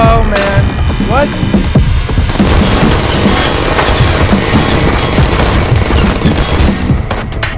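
Video game gunfire in Portal aimed at the player, a dense, continuous rattle of rapid shots and booms that is loud and close throughout, layered with other game noise.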